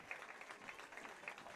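A high-school football crowd applauds a Hilldale player getting up after an injury, faint distant clapping in a steady patter.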